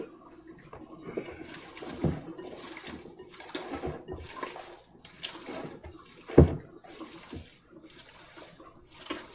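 Tap water runs in uneven splashes into a kitchen sink while meatballs are mixed by hand, with a sharper splash near the middle; steady and close, no talking over it.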